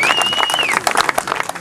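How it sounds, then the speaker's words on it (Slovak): An audience claps for riders at a motocross award ceremony, a dense, lively burst of applause with a whistle rising over it at the start. "potlesk!"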